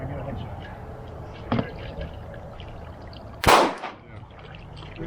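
A single gunshot strikes a target box outdoors, a sharp loud crack with a brief ringing tail, after a smaller earlier thump, with faint background noise and no talk over it.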